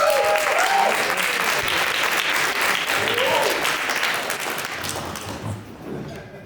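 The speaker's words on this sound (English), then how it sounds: "let's give Frank Robinson a big round of applause." A room full of wedding guests claps loudly and steadily, the applause thinning out toward the end.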